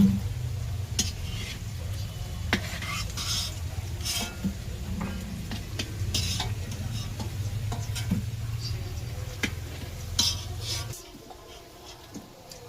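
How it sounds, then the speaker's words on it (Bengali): Potatoes fry in oil over a homemade wood-fired stove, a continuous close sizzle with light scraping stirs and a low roaring hum from the fire that drops away near the end. "আলু ভাজা হচ্ছে এখন"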